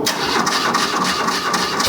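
A restored BMW R100RT motorcycle with a freshly rebuilt engine that has not run since, its engine turning over and running as a steady, rough mechanical clatter, close and loud throughout.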